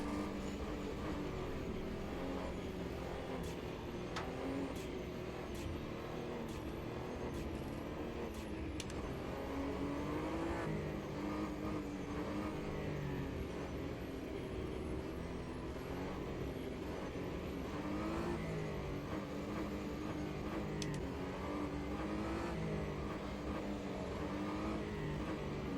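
A race car engine at Monza in the sim racing game Automobilista 2, a steady droning roar that shifts pitch with revs and gear changes, continuous throughout with faint clicks on top.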